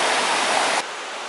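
River water rushing beside an old water-driven flour mill, a loud dense broadband roar that drops abruptly to a softer hiss partway through, with no voices.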